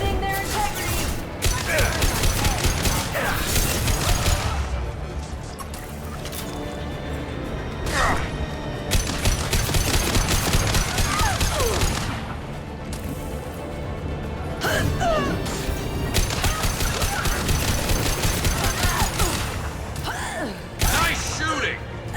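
Heavy gunfire and impacts in the video game Mass Effect 2, loud repeated bursts of shots and crashes over a dense combat din, with voices occasionally heard.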